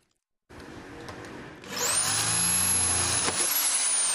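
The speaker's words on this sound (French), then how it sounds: "le bruit des perceuses sur le métal n'avait pas résonné dans cet atelier de menuiserie" Power drills bite into metal in a carpentry workshop, starting with a lower mechanical hum and then rising to a loud, sustained high-pitched whine, close and continuous.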